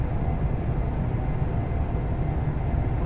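A Class 350 electric train in the Train Sim World 5 railway game rumbles past continuously, a dense, steady rolling roar filling the whole moment with no voices.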